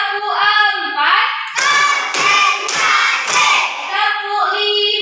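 A classroom of schoolchildren chants together and claps in rhythm, with four sharp, loud clapping bursts close by in the middle of their voices.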